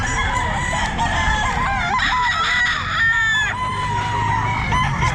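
A stag rooster, a young Golden Boy gamefowl, crows loudly and close at a busy pet market, its repeated calls overlapping other crowing and clucking birds in a dense, continuous din.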